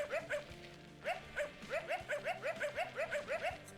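A cartoon dog in the Ollie-Oop video game gives a rapid series of short, high yappy barks. They come in a bouncy rhythm that speeds up toward the end and stay fairly soft throughout.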